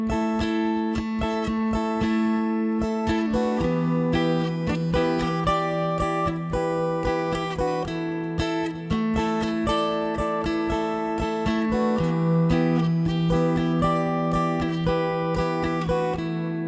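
An acoustic-style guitar plays the mandolin part of a song through a full verse, with steady, continuous picked notes over a held low drone and chord changes every few seconds, heard clearly and alone.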